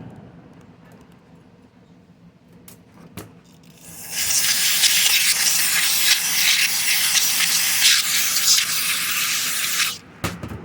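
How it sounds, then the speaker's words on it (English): Carb cleaner sprayed into the recoil starter of an Echo SRM-225 trimmer: a quiet start with small clicks, then a loud, steady aerosol hiss for about six seconds that cuts off abruptly. "We're also going to clean out inside of here with a carb cleaner."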